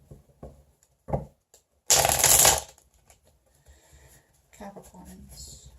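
A tarot deck shuffled and split by hand, a few short card taps followed by one dense riffling burst, then softer shuffling under quiet talk.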